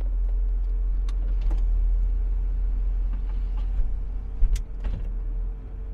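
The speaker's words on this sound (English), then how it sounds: "And of course, all of these windows work properly." Power window motor of a 2004 Mercedes CLK500 whirs faintly under a steady low engine idle rumble, with a few soft clicks and thumps as the glass stops.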